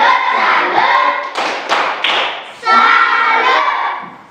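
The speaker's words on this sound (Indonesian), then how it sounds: "Mari kita satu kali beri tepuk salut" Group of people, likely a class, clapping hands together in quick rhythmic bursts, close and loud, with brief thumps and a few voices mixed in.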